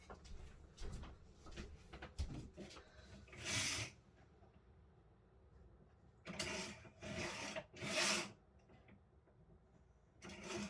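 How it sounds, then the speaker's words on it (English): Paper being trimmed for cardmaking at a craft table, heard as a few rough scraping, rasping strokes in separate bursts with quieter handling noise between them and no talk. "I need to trim that off. I'm just going to trim that off."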